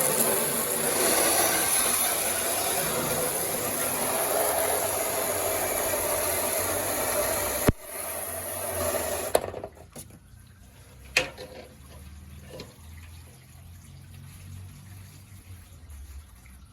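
A power washer sprays water up into a gutter downspout, a loud continuous hiss and engine drone that cuts off abruptly, leaving quieter dripping and a few sharp knocks.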